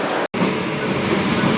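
A train pulling out of a station in Valencia, Spain, a loud, steady rumble and hiss of rolling carriages close by, with one brief dropout near the start.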